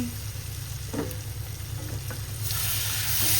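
Whole spices, two cardamom pods and a cinnamon stick, frying in a pan for butter-style pasta: a soft continuous sizzle with a few light stirring knocks, swelling louder toward the end.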